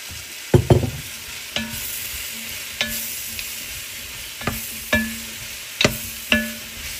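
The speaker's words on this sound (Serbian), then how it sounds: "Na istoj masnoći propržit ću praziluk i šampinjone." Leeks and button mushrooms frying in the fat left from pork neck, a steady soft sizzle with occasional sharp clicks and scrapes of a stirring spoon against the pan.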